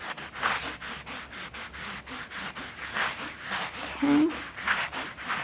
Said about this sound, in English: Give it a nice clean, just rubbing it down.